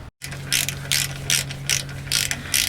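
A hand ratchet tightens bolts on a Ram truck in a service shop, giving six evenly spaced bursts of rapid clicking, close and clear, over a steady low hum.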